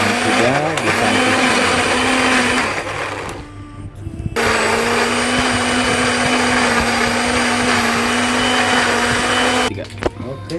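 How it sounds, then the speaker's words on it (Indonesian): A blender whirs loudly and steadily, mixing young coconut into carp fishing bait, with a brief drop in the motor near the middle before it resumes at full speed and then cuts off at the end. "Oke, kita blender lagi."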